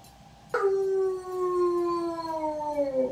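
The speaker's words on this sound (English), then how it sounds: "Why are you in there howling?" An Alaskan Malamute lets out a single long howl up close, starting suddenly and sliding slowly downward in pitch for a few seconds, with no talking.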